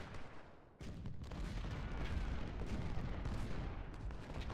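Artillery and musket fire in an Ultimate General: Civil War battle at Stones River, a dense, continuous rumble of distant cannon booms and crackling volleys that swells after a sharp opening burst.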